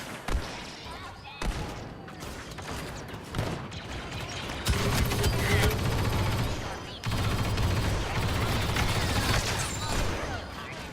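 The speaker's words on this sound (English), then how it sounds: "Sentry guns online." Automated sentry guns firing during a Star Wars Battlefront 2 multiplayer match, sustained mechanical bursts and blasts layered with battle noise, with voices talking over the din.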